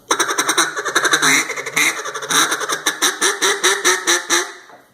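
A duck call is blown with a rolled tongue, giving a rolling cluck: a loud, close series of rapid, reedy nasal pulses that speed up toward the end, heard alone.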